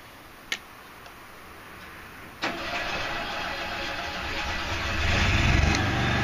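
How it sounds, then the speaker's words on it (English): A standby generator engine cranks and catches: a couple of sharp clicks, then a sudden rumbling start that builds into a steady, loud running drone, close by with no voices. "you can hear the generator just fired up"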